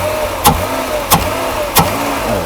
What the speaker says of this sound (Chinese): 大哥来拉动油门